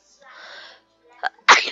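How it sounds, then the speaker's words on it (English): A person lets out one big, sudden sneeze at close range, preceded by a short stretch of murmured talk and a brief sharp breath. "Oh wow, that was a big achoo."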